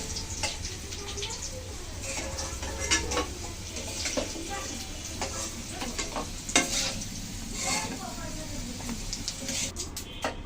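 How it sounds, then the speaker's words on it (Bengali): Fish sizzles steadily in hot oil in a pan, with repeated stirring scrapes and light clinks of the spatula against the metal. A low background hum runs beneath the frying throughout the clip. "তো মাছ তরকারি একটু সুন্দর করে ভেজে নিলাম।"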